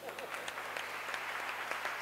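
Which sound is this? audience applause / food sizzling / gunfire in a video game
audience applause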